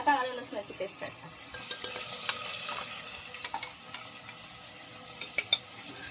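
Ginger garlic paste dropped into a hot pressure cooker while making khichdi, giving a soft crackling sizzle with scattered clinks and scrapes of a spoon stirring against the metal pot, fairly quiet and close, with no talking.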